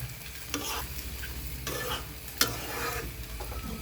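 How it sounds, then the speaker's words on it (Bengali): Liver and spices being stirred in a frying pan for a Bengali kaleji bhuna, a steady sizzle broken by scraping spoon strokes and a few sharper clacks against the pan, close and alone. "তো ভালো করে নাড়িয়ে মিশিয়ে দিলাম, মশলাগুলোকে মিশিয়ে দিই যাতে বুনা হয়ে আসে এবং সিদ্ধ হয়"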